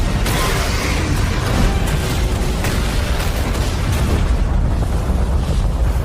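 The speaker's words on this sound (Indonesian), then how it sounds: "Dan ketika kedua batu tersebut saling bertubrukan, terjadilah bum-bum ledakan yang bikin Yin Tuo terhempaskan ke belakang." Two colliding boulders in an animated series set off a loud, dense explosion, a sustained roaring burst of rumbling noise with a sharper crack near the start, filling the whole stretch.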